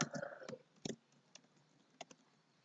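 Quiet, sparse clicks of keys on a computer keyboard as a school name is typed, with a quick cluster at the start followed by scattered single taps, close and soft.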